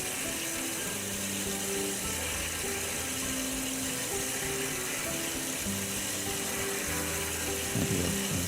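Coolant streams onto the blade of an industrial steel cut-off saw with a hydraulic vise while it cuts through a workpiece. A steady splashing wash sits under a constant mechanical hum and ticking, close and unbroken throughout.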